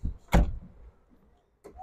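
A used car's door swings shut at a secondhand car market, giving one solid close thump near the start, followed by a quieter click or second door movement at the end, with no talking.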